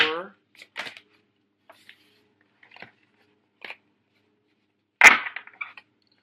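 Tarot cards are shuffled by hand in a few short, crisp riffling bursts separated by quiet gaps, with one louder snapping riffle near the end.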